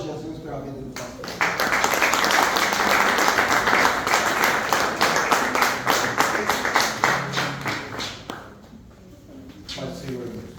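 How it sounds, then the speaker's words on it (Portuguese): A church congregation bursts into lively applause for the pastor at his birthday service, with steady rhythmic clapping after a spoken voice, continuing for several seconds before tapering off as talk resumes. "Aplauda Jesus pela vida do pastor."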